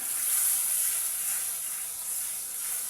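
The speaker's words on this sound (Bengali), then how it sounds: "আমি এটাকে ভালো করে মশলাগুলোকে কষিয়ে নেব। মশলা ফ্রাই হতে লাগবে ভালো করে।" Garam masala paste frying in a pan gives off a steady, bright sizzling hiss, continuous and fairly loud at close range, with no speech over it.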